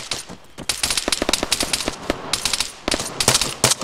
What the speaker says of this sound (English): Emo, suppressive fire on him.